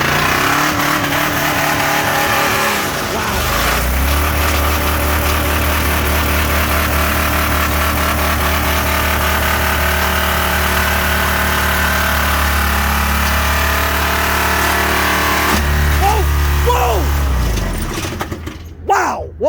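A Ford F150 engine, hood cap opened, revved hard toward redline in neutral: a loud, close, sustained roar that climbs and holds high for a long stretch, then cuts off abruptly near the end.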